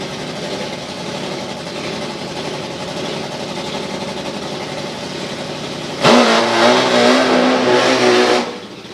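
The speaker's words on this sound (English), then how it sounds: "Steve Willett just waiting to do his burnout under the tank." A car engine idles with a steady rumble, then revs up loudly and holds a high, strained note for a couple of seconds before dropping back, heard at an outdoor motoring event ahead of a burnout, with no talking.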